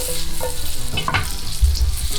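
Guanciale frying in its own fat in a pan, a steady dense crackling sizzle with a couple of brief stirring scrapes, close and loud, no talking.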